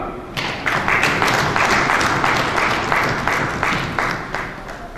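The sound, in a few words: audience applause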